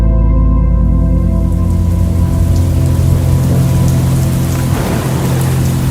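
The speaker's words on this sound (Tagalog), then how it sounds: "Biglang-bigla naman ang buhos ng ulan." Heavy rain pours steadily, a dense continuous hiss with a low rumbling undertone, loud and close throughout.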